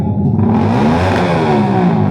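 Motorcycle engines with loud exhaust pipes rev during warm-up, a loud, continuous, close-up roar whose pitch rises and falls as the throttle is worked.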